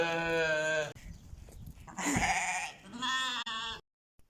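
Sheep bleat loudly and close by, several long wavering calls in a row with short gaps between them.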